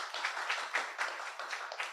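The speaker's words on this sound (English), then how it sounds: "Little round of applause for Hugh and Rob and Deborah" Light clapping from a small group, a brief patter of hands that stays modest in volume.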